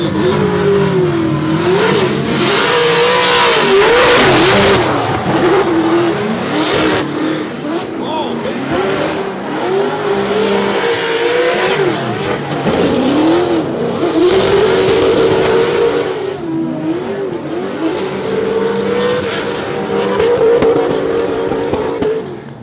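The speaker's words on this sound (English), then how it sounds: "he's driving that S14. That's, I think Dan went a little wide, but it was a smooth lead run" A Nissan S14 drift car at a competition lead run, its engine revving and wavering loudly through repeated throttle swells under continuous commentary voices.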